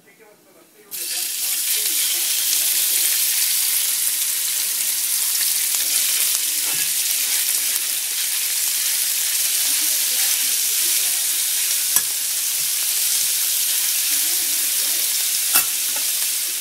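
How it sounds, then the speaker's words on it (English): Meat hits a hot pan with toasted garlic for a stir fry, breaking into a loud, steady sizzle that hisses on continuously, with occasional clinks of stirring. "you're going to want to throw in your meat"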